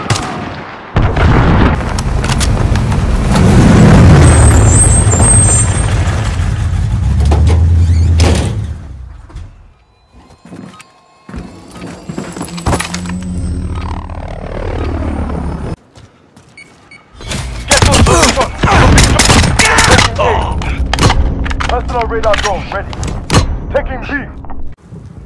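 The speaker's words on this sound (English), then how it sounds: "Enemy cruise missile incoming." Call of Duty Modern Warfare match with an incoming enemy cruise missile strike: loud rumbling blasts and heavy impacts for several seconds, a quieter stretch of scattered shots and mechanical noise, then more sharp booming bursts, with game voices over parts of it.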